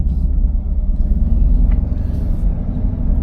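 Deep, rumbling burble from the stock exhaust of a 2018 Chevrolet Camaro 1SS, loud and close with a steady low throb and no voices.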